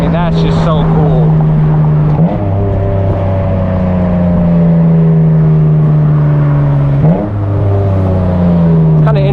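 Straight-piped BMW Z3 M with its M engine, driven fast; a loud, steady exhaust drone holds throughout, dipping briefly twice as the pitch drops between gears, with a voice speaking over it.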